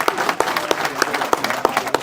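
An audience at a high school hall of fame ceremony applauding an inductee, dense continuous clapping from a crowd in a hall, with a few louder individual claps standing out.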